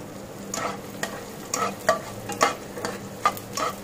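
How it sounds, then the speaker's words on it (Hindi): Edible gum fries in hot ghee in a small batch for a panchmeva paag sweet. A soft, even sizzle runs beneath a series of separate stirring scrapes and clicks at a moderate level. Nobody speaks. "अब हम इसमें गोंद, जो हमने गोंद लिया था उसको हम 3 बारी में थोड़ा थोड़ा करके फ्राई करेंगे"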